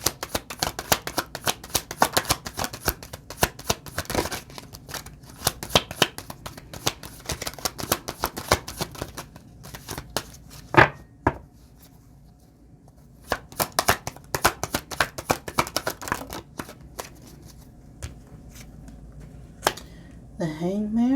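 Tarot cards shuffled and dealt at close range, a dense run of riffling flutters and quick slaps, then sparser card snaps and flicks as cards are drawn, with a voice speaking over parts of it.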